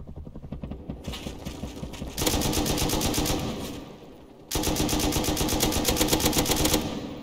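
Automatic weapon fire in the survival video game Rust, sustained rapid bursts of shots clattering in two long stretches separated by a brief lull, loud and close with no talking.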